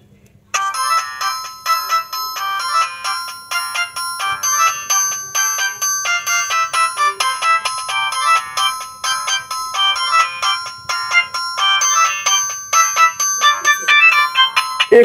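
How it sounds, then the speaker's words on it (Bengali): A keypad mobile phone plays its built-in ringtone: a loud, bright, bell-like electronic melody of quick repeating notes that runs continuously on its own. "অবশ্যই আমি রিংটোনের সাউন্ডটা একটু শোনাতে চাচ্ছি যে এই ফোনটির সাউন্ড কেমন হবে"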